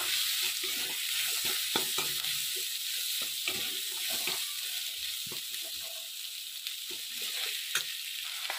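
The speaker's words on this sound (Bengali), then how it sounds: "এখানে আমি মটরশুঁটিগুলো দিয়ে দেবো এর মধ্যে, দিয়ে ভালো করে আমি নেড়ে নেব।" Green peas are stirred into chili soya chunks frying in a pan with Kashmiri chili, a continuous hiss with repeated spatula scrapes and knocks, close up.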